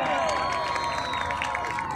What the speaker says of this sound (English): Wonderful clapping!